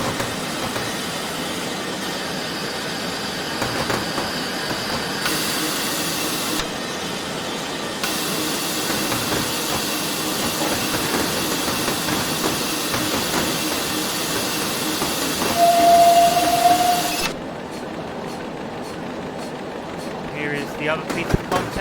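A simulated RM P Class Atlantic steam locomotive chuffs and hisses with a steady rumble, a brief tonal whistle-like note near the end, then the sound cuts back to quieter hiss and clanks.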